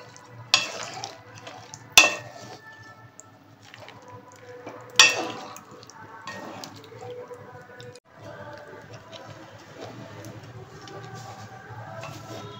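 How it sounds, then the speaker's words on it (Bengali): Milk being stirred steadily in a pot on the stove as it heats toward a boil, for a malai chicken dish; a soft, continuous scraping swirl with a few sharp utensil clicks against the pot, close and fairly quiet. "যতক্ষণ না ফোটে ততক্ষণ আমি এটা নেড়ে যাব"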